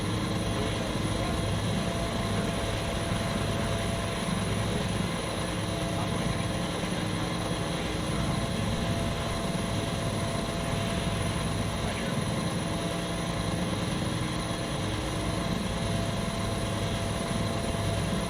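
A Bell 412 helicopter in a flight simulator with a search-and-rescue sound mod, its steady rotor and turbine drone running continuously and loud throughout.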